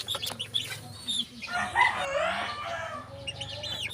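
Gamefowl chickens, a cross of two bloodlines, cluck and call close by in a pen, with repeated short clucks and a longer drawn-out call in the middle and faint wing flapping, no talk over them.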